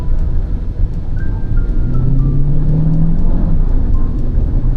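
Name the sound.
Chery Tiggo 7 Pro accelerating at full throttle in sport mode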